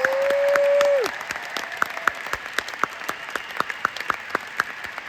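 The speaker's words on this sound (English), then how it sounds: "Can we give Emily Wright just one big, more huge round of applause" A small audience claps for a speaker after a talk on the microbiome and growing plants, the applause thinning into scattered individual claps after a sustained electronic tone fades in the first second.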